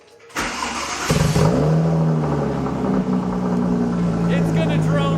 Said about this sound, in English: now I have a Sharkworks titanium track pipe. It's loud, but it's really good.